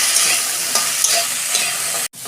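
Drumstick stalks fry in oil in a kadai, giving a loud, steady close sizzle with stirring scrapes that cuts off abruptly near the end.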